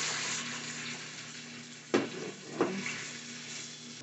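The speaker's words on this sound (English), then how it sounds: "So we'll go ahead and add that then. Yeah, and then we're going to mix that well." Canned pumpkin being stirred into a sauce in a hot pan, a steady soft sizzle with two brief scraping clacks of a utensil partway through, close and fairly quiet.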